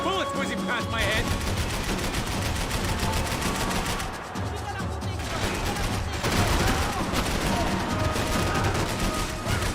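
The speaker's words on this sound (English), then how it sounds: "I can't concentrate with bullets whizzing past my head!" Dense game gunfire from Max Payne 3, rapid automatic bursts and overlapping shots with bullets whizzing past, loud and continuous, with voices shouting over the firefight.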